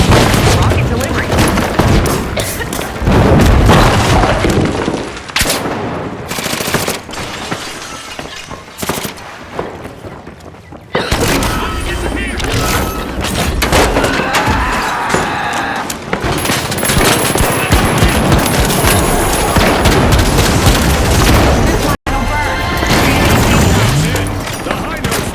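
Heavy booming grenade explosions from an MGL32 launcher in The Finals, a World Tour match, repeating through a dense, loud mix of blasts and shattering debris, with voices talking over the action.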